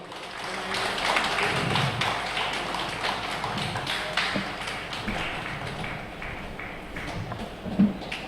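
Scattered audience clapping at an astrology conference award ceremony, with light uneven claps patting along at a moderate distance and a few sharper taps near the end.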